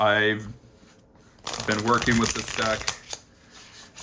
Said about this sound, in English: overall it is very easy to shuffle